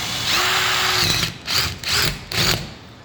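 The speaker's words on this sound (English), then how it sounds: "just put one screw straight in" Power drill driving a screw into a door frame stud, whining steadily for about a second and then in three short bursts as the screw seats, close and loud.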